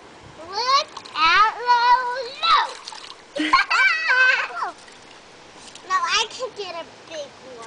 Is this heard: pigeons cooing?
no